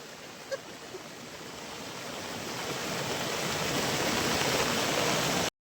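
Heavy monsoon downpour in the Konkan countryside with waterfalls pouring everywhere: a dense, steady roar of rain and rushing water that swells slightly louder over time, broadband and continuous with no voices.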